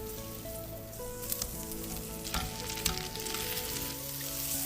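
Sliced Kenzler sausage fries in a pan, a steady close sizzle with faint stirring scrapes and a few soft clinks, no voices.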